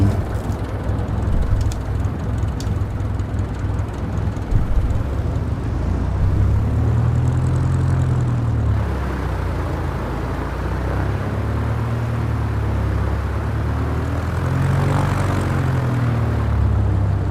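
Propeller airplane engine in Microsoft Flight Simulator 2020, flying over France: a loud, steady, close drone with a low throbbing hum that gently rises and falls, running continuously with no talking.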